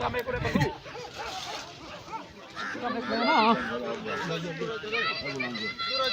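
Tracker dogs bark excitedly among a crowd, with yips mixed into continuous nearby chatter and voices.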